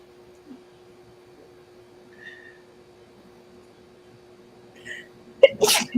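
A single sharp sneeze bursts out near the end after a few seconds of quiet room hum, close and loud.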